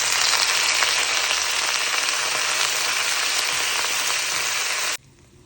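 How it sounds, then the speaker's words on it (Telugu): Green chillies, cumin seeds and fresh mint frying in hot oil for a ridge gourd chutney give a steady, dense sizzle that holds loud and even for about five seconds, then cuts off abruptly to near silence. "చట్నీకి అయితే ఆయిల్ వేసాను. అందులో పచ్చిమిర్చి వేసా, జీలకర్ర, పుదీనా వేసుకున్నాను."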